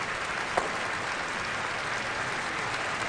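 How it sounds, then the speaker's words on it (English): A curling crowd at the 2009 Canadian Olympic Curling Trials applauds a player's slide down the ice, a steady, soft wash of distant clapping that carries evenly without voices. "The applause you hear, as Ray mentioned it earlier, the crowd here has really taken to Jason Gunlickson and acknowledging his slide down the ice."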